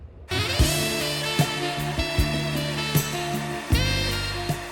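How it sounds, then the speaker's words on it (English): A handheld blow dryer runs steadily, drying freshly applied lip gloss, with a constant loud whir and a few brief clicks and bumps from handling. "So I went ahead and dried it with the blow dryer"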